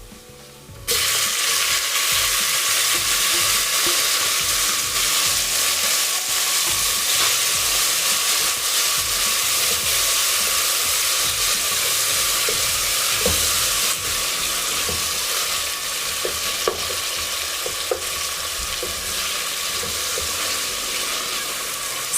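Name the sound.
tomatoes added to frying onions, ginger and garlic for pilau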